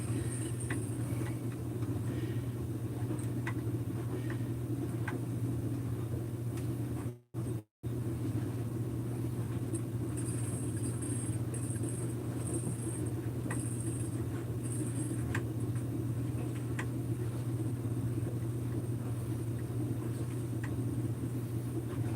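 A car engine with a 262 muffler idles steadily while its carburetor is tuned: a constant low rumble throughout, with a brief dropout partway and faint clicks and a high whine on top.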